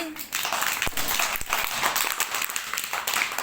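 A room of students breaks into loud, sustained applause, dense clapping that swells after a brief quiet start and carries on evenly to the end.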